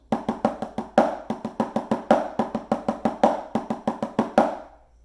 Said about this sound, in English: I'm going to play it all on 1 drum, or 1 pad rather